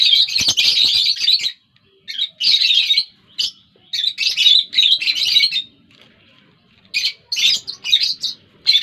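Cockatiels kept in a colony chirp and squawk close by in repeated bright bursts separated by short pauses, no voices heard.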